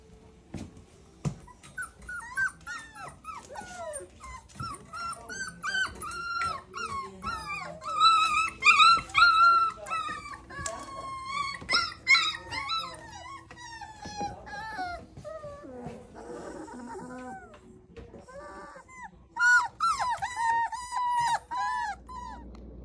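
A dog whimpers and whines in high, wavering cries after a vet checkup, sometimes close together in bursts, with quiet pauses between and a short break near the end.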